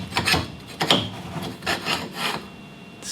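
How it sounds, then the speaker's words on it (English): Interchangeable steel plates for a forge press built from a 40-ton log splitter, sliding into place with several scraping metal-on-metal rubs in short bursts, close and moderately loud, no talking. "They slide straight in."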